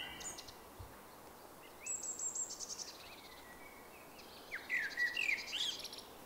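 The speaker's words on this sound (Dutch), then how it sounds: "daardoor horen we nu al die vogels ook opeens" Birds sing and chirp in a quiet city street with little traffic, faint and somewhat distant, in short bursts of tweets over a hushed background.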